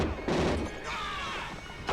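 A RoboCop shootout scene plays with bursts of gunfire and crashing impacts, loud and chaotic over a couple of seconds, with movie sound effects layered together.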